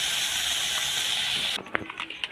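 Chili, onion, tomato, ginger and garlic paste drops into hot oil in a pan for an elephant foot yam and shrimp dish, a loud steady sizzling hiss that cuts off abruptly, leaving a few light clinks and scrapes.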